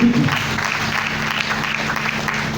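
A church congregation clapping during a sermon on love, a loud continuous burst of many hands that swells at the start and holds steadily throughout.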